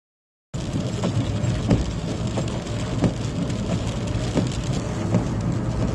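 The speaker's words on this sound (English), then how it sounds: "Rainy Saturday morning." Steady rain falls on a Saturday morning, a dense even hiss heard close, with occasional faint knocks underneath and no talking.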